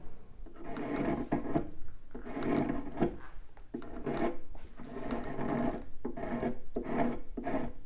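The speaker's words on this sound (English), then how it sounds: "Now I'm just gonna scrape off a little bit of this surface there." A blade scrapes wood surface and glue at a tapered end inlay joint in repeated rhythmic rasping strokes, close and fairly loud, with brief pauses between passes and no talking.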